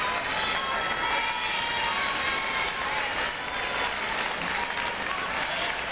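A gymnastics crowd at a 1997 girls' high school state finals meet cheers and claps in a thick, continuous roar of applause that holds at full strength throughout.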